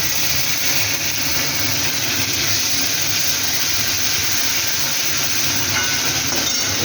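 Ginger, chili and tomato paste sizzle in hot oil already tempered with cumin and bay leaf for a bottle gourd curry, a loud, steady, close hiss that continues without a break.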